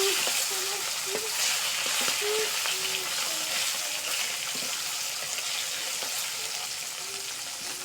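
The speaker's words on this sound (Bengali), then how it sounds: "মাছটা ভাজা হয়ে গেছে," Fish fries in a pan with a steady, loud sizzle that holds for several seconds, with occasional light stirring or spatula sounds.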